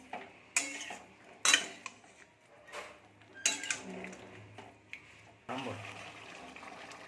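Chicken and potatoes being stirred and sautéed in a pot, with irregular scraping and clinking of a utensil against metal under a soft background sizzle, several sharp knocks standing out near the microphone.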